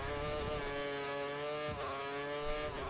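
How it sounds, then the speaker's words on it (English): An F1 2013 racing game car engine whines at high revs, a steady harmonic-rich drone that rises slightly as the rear wheels spin, heard alone without talk. "Wheel spin is noticed by the sound of the rear wheels spinning and also the engine revs going up a bit more"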